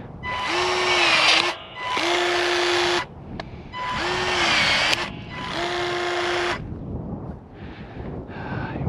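Ryobi One+ cordless battery lopper cutting fruit tree branches: four loud, steady motor bursts of about a second each with short gaps, then quieter running toward the end, close to the microphone with some wind noise.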